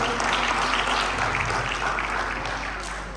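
An audience claps steadily throughout at a school student council (OSIS) inauguration ceremony at SMP Islam Athirah 1 Makassar, a loud, dense, continuous applause that eases slightly toward the end.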